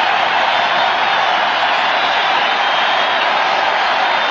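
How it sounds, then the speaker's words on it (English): A stadium crowd of more than 53,000 at a 1979 World Series baseball game gives pitcher Flanagan a standing ovation, a steady, dense roar of cheering and applause filling the whole stretch without a break. "Look at Flanagan. He gets a standing ovation."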